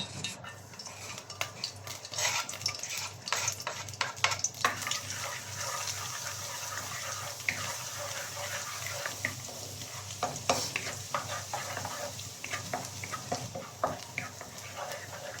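Bangwa frying in hot oil for leftover fried rice, a steady crackling sizzle with scattered sharp clinks of a utensil against the pan and faint low kitchen hum throughout.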